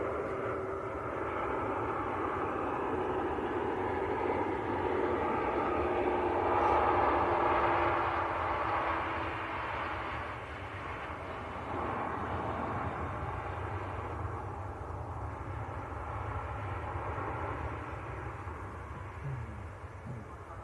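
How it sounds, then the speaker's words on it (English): A Ryanair airliner arriving from Lisbon at Manchester Airport, heard as a steady broad roar that rises and swells midway, then eases slightly and holds, with no talking. "Next arrival is a Ryanair. Lisbon. In from Lisbon in Portugal."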